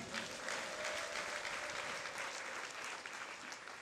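An audience at a stadium gathering in Muhanga claps steadily, a dense, even wash of applause close by that holds for the whole few seconds without letting up.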